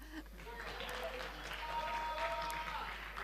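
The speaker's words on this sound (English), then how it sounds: "clap for me" An audience at a book festival session gives a soft, scattered round of clapping, fairly faint, while people talk over it and a low steady hum runs beneath.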